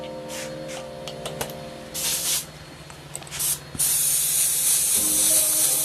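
Airbrush spraying water in bursts: several short hissy sprays, then a long steady loud spray toward the end, close up over faint background hum.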